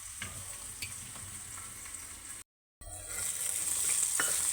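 Chopped raw onions stirred into pachipulusu in a pot, a close scraping stir over a steady hiss, broken by a brief gap and then growing louder and denser toward the end.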